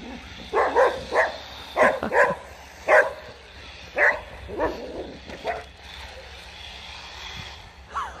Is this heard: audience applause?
no